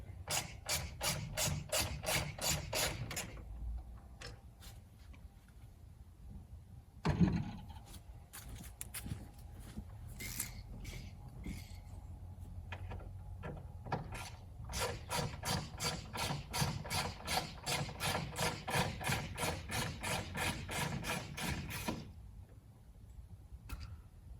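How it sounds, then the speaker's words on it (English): A ratchet clicks rapidly while backing out screws from the wiper motor bracket of a Jeep YJ, in several bursts of fast, even ticking separated by pauses with a few louder knocks, close and fairly quiet. "So I'm going to pull these two screws back out."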